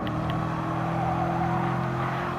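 Race cars, including an Audi TT Cup, run in the Gran Turismo Sport Nations Cup as a steady, moderately loud engine drone with a sustained tonal hum, and no one talks.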